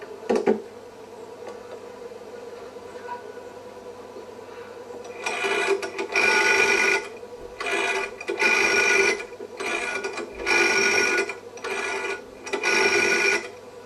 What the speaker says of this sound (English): He decided to make a very important phone call.